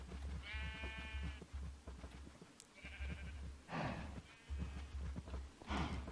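Cows in the Minecraft Better Than Wolves mod give several moderately loud, repeated lowing calls over a low, rumbling background.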